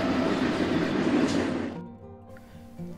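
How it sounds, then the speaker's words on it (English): A train rushes past in a loud broad roar that fades out after a couple of seconds, leaving a quiet tonal hum. "Cinders had just pulled her tender out of the way when the 5:30 train came rushing"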